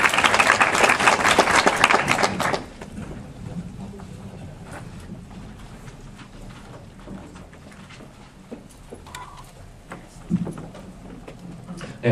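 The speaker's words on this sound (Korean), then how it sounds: "김영인 선생님을 큰 박수로 맞이해 주십시오." Audience at a medical lecture on digital health in Korea claps to welcome the speaker: a loud burst of applause for about two seconds that cuts off abruptly, followed by quiet room noise and faint shuffling.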